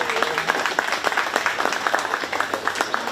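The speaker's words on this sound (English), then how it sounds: "Let's give him a nice round of applause." An audience applauds the champion junior showman at a 4-H cattle show at a county fair, with brisk, scattered clapping throughout and voices under it.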